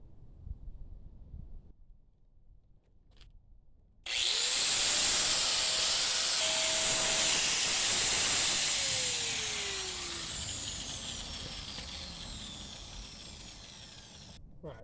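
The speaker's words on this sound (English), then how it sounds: "So I'm going to grind a good portion of this off." A power grinder cuts away a metal portion at the front of a motorcycle engine mount during an MM1000 build, starting abruptly and running loud and steady for about ten seconds, its whine dipping under load before fading near the end.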